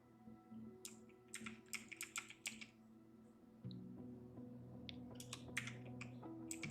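Typing on a computer keyboard, two short bursts of light clicking keystrokes over a steady low hum, fairly quiet and close, with no voice.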